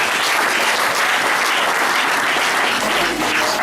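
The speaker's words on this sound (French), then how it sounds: "Donc, acclamons très fort pour lui." A conference audience breaks into loud, sustained applause and cheering, a thick continuous wash of clapping filling the room with no voices above it.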